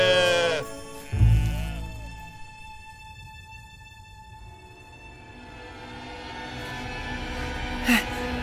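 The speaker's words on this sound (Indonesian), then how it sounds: "Ada banyak domba untuk dihitung." Sheep bleat in a cartoon scene: a loud wavering bleat at the start, then quieter sustained tones and soft background music, with a second brief bleat near the end.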